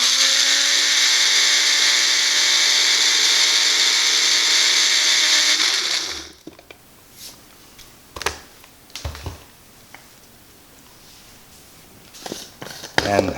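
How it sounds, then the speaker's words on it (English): An electric grinder gives a quick grind to dried parsley and spices for a barbecue rub, a loud steady whirring buzz lasting about six seconds before stopping, followed by faint clatter and handling noises. "Now we're just going to give it a quick grind."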